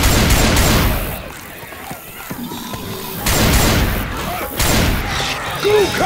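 Loud bursts of gunfire blast at a jockey in the video game Left 4 Dead 2, coming in heavy waves with thuds and crashes, while voices shout over parts of the shooting.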